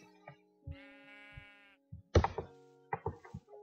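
A sheep bleats with a long wavering call in Minecraft, surrounded by short thuds and clunky game sound effects.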